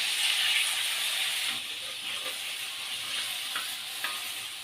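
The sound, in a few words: chicken frying and being turned in a kadai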